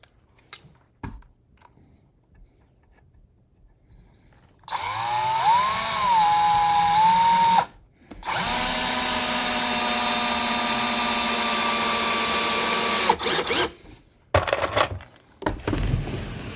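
A power drill drives screws into wooden hive stands in a shop, giving two sustained whining runs with rising and falling pitch, separated by a short break and surrounded by clicks and handling noises.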